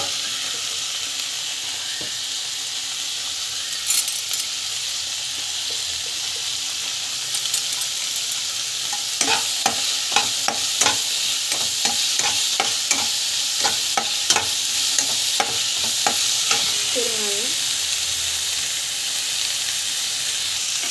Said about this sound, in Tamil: இஞ்சி பூண்டு பேஸ்ட்டு நல்லா வந்து வதக்கி வச்சுக்கோங்க.